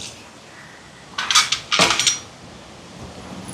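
A few bright metallic clinks and scrapes of a utensil stirring curry in a pot, two short bursts close by, with quiet room noise in between.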